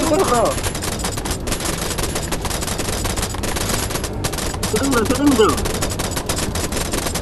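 Rapid gunfire bursts in the Choo Choo Charles fan-made horror video game, dense and continuous across the clip, with voices talking over the shooting.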